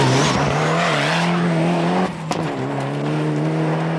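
A Ford Escort rally car with a broken drive shaft struggles along a stage of the Ulster Rally, its engine droning loud and close with a strained, wavering note that dips briefly before holding steady.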